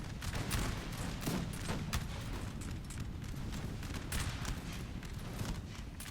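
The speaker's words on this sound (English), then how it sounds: "will suffer a lot from the sustained gunfire coming down at them" Sustained musket volleys crackle from massed line infantry in the battle game Napoleon Total War, a dense, continuous rattle of overlapping shots with sharper cracks standing out at irregular intervals over a low rumbling battlefield din.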